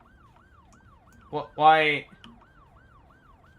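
A Cities Skylines 2 ambulance siren wails in a steady repeating up-down sweep throughout, moderately loud, with a man's brief spoken interjection breaking in midway.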